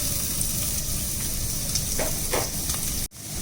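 Chopped onion sizzles steadily in hot oil in a pan, a dense continuous frying hiss with faint stirring crackles, cut off abruptly just before the end.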